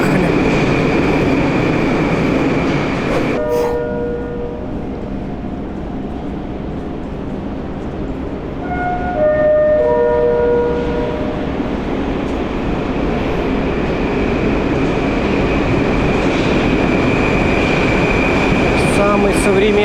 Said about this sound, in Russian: Самый современный поезд, ну или один из самых современных поездов метро московского метрополитена.